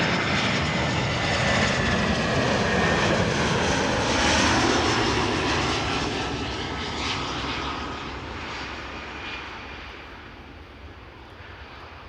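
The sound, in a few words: Air Arabia Morocco airliner arriving, jet engine noise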